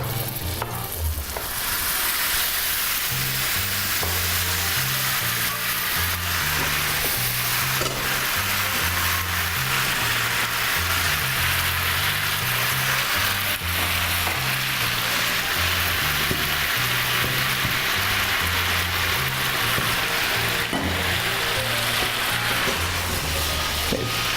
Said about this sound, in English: And this is frying off nicely.